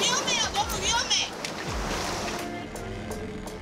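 High ocean waves surging against the shore and splashing near a boat during a hunt for hijiki seaweed, with a voice over the water for the first second or so before the washing surf carries on alone.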